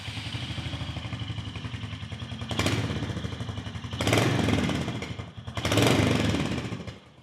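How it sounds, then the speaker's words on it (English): A Royal Enfield Hunter 350 motorcycle engine runs close by with a slow, thumpy idle, lifting into three brief revs before settling back to its steady beat. "it's a good sound, but it's a slow, thumpy motor, and that character is what the Hunter 350 is all about."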